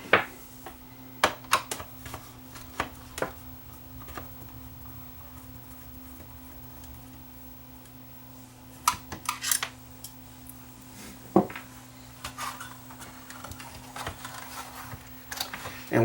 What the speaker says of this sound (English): A couple more screws to remove the tape transport.